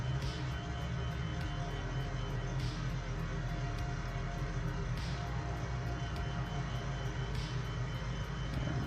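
Heinkel He 177 heavy bomber engines in a flight simulator game, a steady loud droning roar with throttles pulled back, continuous throughout with faint periodic clicks and no talk.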